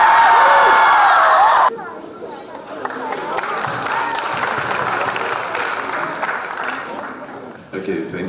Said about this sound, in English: may we have a round of applause for Mr.